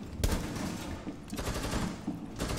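Gunfire from the video game Rainbow Six Siege on Xbox One, with bursts of rapid shots at the start, the middle and the end, ringing out over a steady game background.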